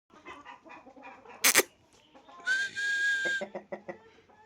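A rooster at a bird arena clucks in short bursts, with one sharp loud squawk and a sustained high crowing call, then more clucks, close and fairly quiet.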